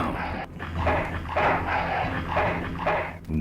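Dogs in the Full Throttle video game bark in a quick rhythmic series of several close, loud yaps, with no talk.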